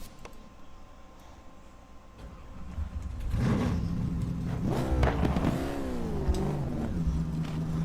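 Race car engine in the GT Legends racing game revs and climbs through the gears, steady and close, rising in pitch with sweeping shifts and holding a loud drone throughout.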